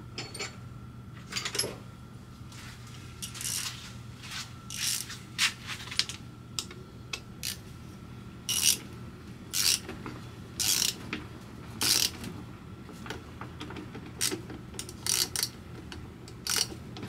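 A socket wrench ratchets in repeated short bursts of rapid clicks while a 232cc GY6 scooter short-case engine is assembled, close and crisp over a quiet workshop hum, with irregular pauses between bursts.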